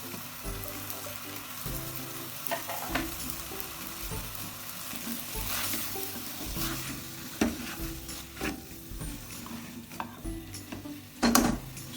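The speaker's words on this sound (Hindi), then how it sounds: "इसको मैंने फ्राई करना है" Chopped capsicum fries in a keema mixture in a pan, a steady close sizzle broken by scraping stirs and occasional clanks of utensil on metal, with no talk.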